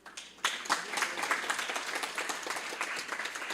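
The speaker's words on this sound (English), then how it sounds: "let's all encourage him by giving a big round of applause" Applause for a young boy at a community religious gathering starts abruptly after a brief quiet moment, then continues as dense, moderately near clapping from a crowd with individual hand claps audible.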